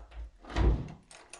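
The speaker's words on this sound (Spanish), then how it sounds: "El sonido de las llaves le decía que ya estaban al otro lado de la puerta" Keys jingle and a house door opens with a soft thud in the middle of a quiet room, followed by faint shuffling.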